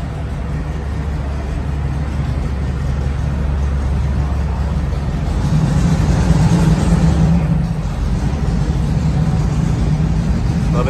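A dusty AAR Cuda with a 4-speed runs steadily up close, its low engine rumble filling the whole stretch and swelling a little louder for a few seconds midway before settling back.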